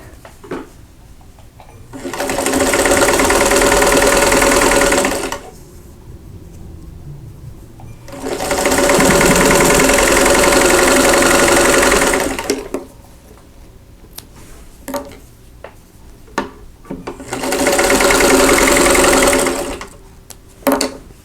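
A sewing machine stitches the center seam of a pinwheel quilt block in three steady, loud runs of a few seconds each, separated by quiet pauses.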